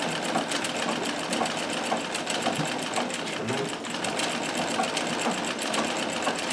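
A Riccar 570 sewing machine stitches stretch fabric along an edge with a fast, steady mechanical whir and needle clatter, close and continuous throughout.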